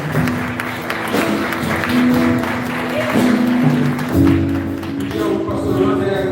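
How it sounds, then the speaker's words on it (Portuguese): A church congregation applauds during a Portuguese-language service. Mixed clapping runs under sustained musical tones and voices, at a steady moderate level throughout. "Aplauda o Senhor Jesus, amém?"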